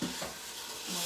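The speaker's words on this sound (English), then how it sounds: "Y'all may can hear the ham is already sizzling" Ham sizzles in a pan, a soft, brief, steady frying hiss at low level.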